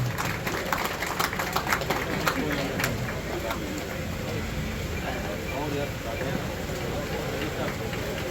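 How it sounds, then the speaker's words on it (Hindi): An audience at a police lines event in Bhagalpur keeps up continuous applause, a thick, sustained clatter of many hands mixed with crowd murmur and nearby voices. "ताली बजती रहनी चाहिए।"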